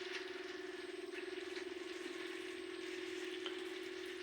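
Butter simmering into ghee in a pan over a low flame, giving a steady close fizzing bubble with faint crackles, alone without talk.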